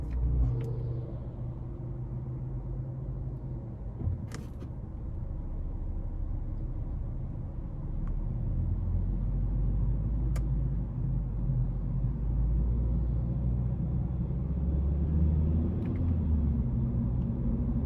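A 2022 Honda Civic Sport with the 2.0 engine and CVT, driven in sport mode, gives a steady low engine rumble and road noise that swells slightly partway through, with a few faint clicks and no talking.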